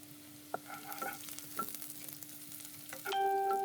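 Chopped onion stirred in hot oil in a pan for a shrimp bhuna, with a steady low sizzle, a few sharp spoon clicks against the pan, and a louder burst of frying near the end.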